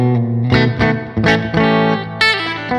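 Electric guitar, a 1957 Fender Telecaster Relic through a bright tube amp with the bright switch on, plays a few ringing chords and single notes with a bright, crisp tone and slight effects shimmer, close and loud.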